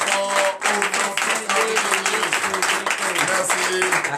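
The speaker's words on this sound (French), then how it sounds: "je demande à ce que vous l'applaudissez très très fort au nom" A church congregation at a morning prayer service applauds loudly in the name of Jesus, a dense, sustained wash of clapping mixed with voices.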